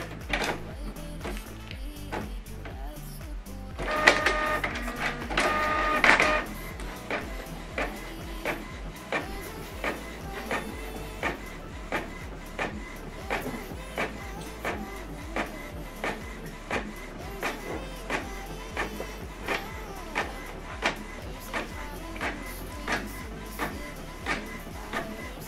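A laser or inkjet printer feeds and prints a double-sided document, giving a steady mechanical whir with regular clicking pulses and a louder paper-feed surge around the fourth to sixth seconds, close and alone.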